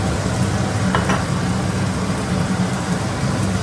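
Chilli chicken fries steadily in a pan as soy sauce is added, giving a continuous, even sizzle and crackle with a couple of brief spattering bursts, heard alone.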